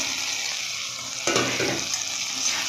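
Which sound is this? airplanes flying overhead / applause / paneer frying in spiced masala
paneer frying in spiced masala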